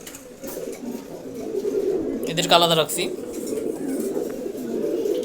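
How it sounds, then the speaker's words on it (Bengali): A pigeon coos in a brief throaty burst near the middle, while someone talks steadily throughout. "এখানে প্রায় সাত জাতের কবুতর রাখছি"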